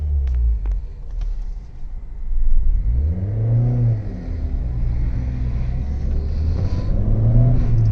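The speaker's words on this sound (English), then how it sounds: "if we pull it initially in the first gear, so it revs till 5000 RPM" A 2010 Maruti Suzuki Swift ZXi petrol engine pulled in first gear toward 5000 RPM, a low idle rumble rising into a climbing rev, easing, then building again steadily, heard from inside the car with no talk.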